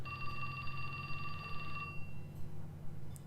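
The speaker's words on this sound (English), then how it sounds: "his cell phone rang" A cell phone ringing in the video game 428 Shibuya Scramble, a rapid electronic trill that repeats for about two seconds and then stops, with soft background music underneath.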